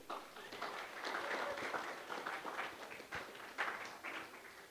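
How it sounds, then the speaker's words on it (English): Applause and clapping from an audience at the opening ceremony of the OECS Super Regional Challenge 2026, a steady mid-level patter of many hands lasting throughout, with a few brighter individual claps and faint crowd noise. "Give yourself a round of applause for being here."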